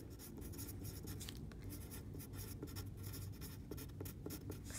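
A pen or pencil writes numbers out in words on paper with a continuous faint scratching, tight and quiet, with short stroke bursts and no talking.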